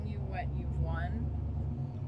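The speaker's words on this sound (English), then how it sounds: "Is that a Jeep again? Another vehicle. Yep. Same Jeep. Doing rounds." A Jeep fitted with an LS3 engine rolls past at a distance, its low, steady rumble faint beneath people talking.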